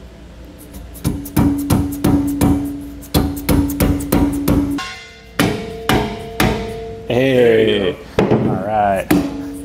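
Repeated ringing hammer taps drive a B and W Patriot fifth wheel hitch part into place on a 2015 Ford F-series truck, coming in quick clusters of strikes, close and loud, with a brief spoken exclamation near the end.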